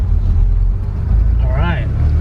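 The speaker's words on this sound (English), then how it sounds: "the idle's a little rough, very rough" A 1981 Porsche 911 Super Carrera idling roughly, a low, uneven engine rumble running steadily beneath someone talking nearby.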